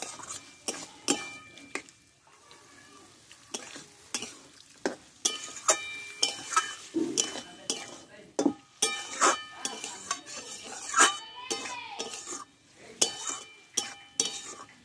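Spiced cucumber curry sizzles and fries in a pan as water is added. A spoon stirs and clinks against the pan in irregular knocks and scrapes over a steady sizzle, close by, with no talk.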